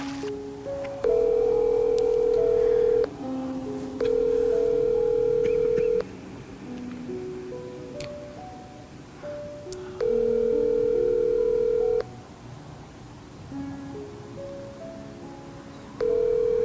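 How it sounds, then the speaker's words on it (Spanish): A telephone gives a steady dial tone, then keypad beeps sound as a number is dialed, followed by repeated long tones in a slow, regular pattern over a quiet background hum. "voy a llamar a ese número"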